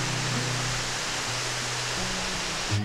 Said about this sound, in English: at least we see a waterfall